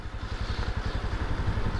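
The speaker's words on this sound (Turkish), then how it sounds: "Böyle yavaş yavaş debriyajı bırakın. Gaz vermeyin. Motor kendi kendine şöyle bir yürüsün." Geared motorcycle idling and pulling away slowly on the clutch with no throttle, a low, even engine putter with rapid regular pulses, close by and without talk.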